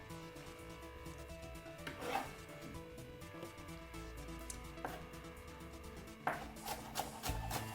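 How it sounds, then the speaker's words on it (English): A knife cutting up a whole spring onion on a board, quiet close chopping and scraping strokes with a few sharper knocks on the board, no talking. "I'm gonna simple cut up the whole of the spring onion and add it to it"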